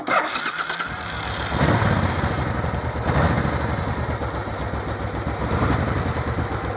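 A Suzuki Intruder 1500 motorcycle engine runs loudly and close by through original exhausts, a deep steady rumble with a few revving surges, no voices over it.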